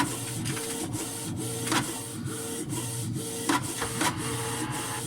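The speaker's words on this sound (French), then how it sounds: "Alors si j'ai pu récupérer une imprimante qui fonctionne nickel." A printer feeds out a sheet with rhythmic mechanical whirring and repeated clicking strokes, steady and close, with no talking.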